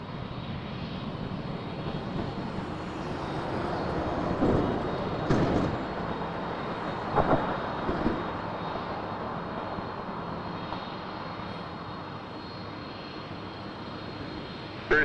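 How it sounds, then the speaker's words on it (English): A McDonnell Douglas MD-11 jet at Toronto Pearson Airport builds a steady, broad engine roar during its takeoff run, sustained and fairly loud throughout with a few brief louder bumps. "Let's see if we can get a few more likes before the MD-11 takes off."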